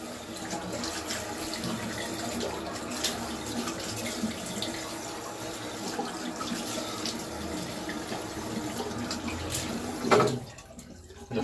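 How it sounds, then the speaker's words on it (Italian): A tap runs hot water for rinsing, a close, steady splashing gush that continues for several seconds, then cuts off abruptly near the end. "Mi sciacquo, sempre acqua calda"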